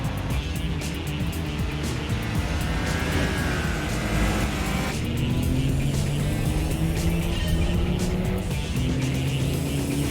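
Race car engine from Gran Turismo 4 roaring continuously at full throttle on an FR challenge against a BMW, loud and steady with rising gear whines and tire noise throughout.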